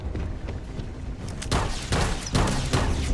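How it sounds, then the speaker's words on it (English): Gunfire crackles in Starfield, a dense spray of shots with sharper bursts around midway and toward the end, loud and continuous, with no talking. "do you hear that gun?"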